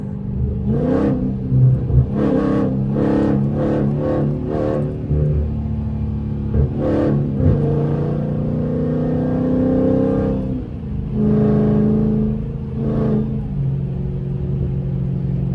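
A Scat Pack car with catless midpipes revs loudly in repeated bursts, exhaust roaring, then settles into a steady rumbling idle before revving again; no talking.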